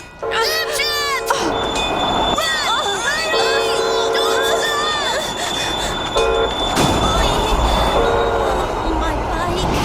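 A train rolls past on rail tracks, loud and close, with bell-like tones ringing out as people shout and call over the rumble.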